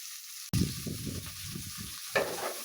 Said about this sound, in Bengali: একটু সময় লাগবে আলু ভাজতে।